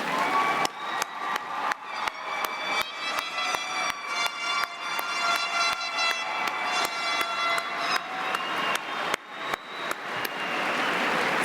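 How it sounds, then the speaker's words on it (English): A crowd at a law enforcement explorers' closing show claps and cheers, sharp bursts of applause recurring through the whole stretch, with a sustained tonal whoop or whistle rising above it in the middle, heard from a moderate distance. "show their appreciation for these outstanding individuals to you with a hearty round of applause"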